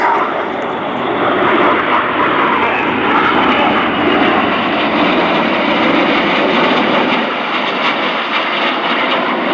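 RAF Red Arrows jet aircraft roar past during a flying display at RIAT 2024. The loud, sustained engine rumble stays strong throughout and eases slightly near the end.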